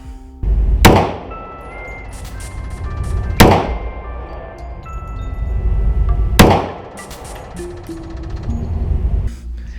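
Three loud, sharp gunshots from an HK USP .45 pistol at a shooting range, spaced a few seconds apart, each with a booming low-end blast and a ringing decay.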